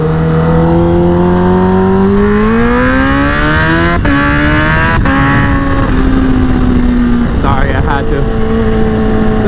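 A heavy 1000cc motorcycle accelerates hard, its engine pitch climbing steadily through the gears with brief shift breaks, loud and close throughout, while a rider speaks over the roar.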